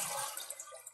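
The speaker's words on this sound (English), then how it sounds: "the best way to do that is to flush this and hold it open" A toilet flushing with its handle held open to drain the tank during a repair of a running toilet: a brief, close burst of rushing, gurgling water with no talk.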